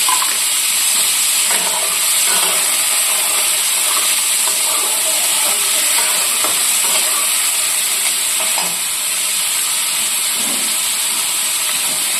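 Paneer cubes frying in a pan make a steady, close, loud sizzle that hisses without a break, with faint stirring scrapes and clicks now and then and no voices.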